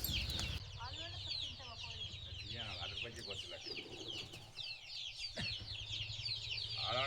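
Free-range country hens cluck and chatter close by in a farm garden, with repeated short calls and a sharp squawk, while a person speaks briefly over them.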